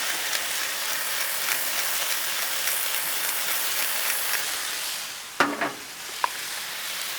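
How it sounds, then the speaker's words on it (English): Shrimp sizzle on a hot Blackstone griddle with a loud, steady hiss that runs throughout, broken near the end by a few sharp scraping clicks from a utensil. "let's get our shrimp on now. We'll put the shrimp way over here"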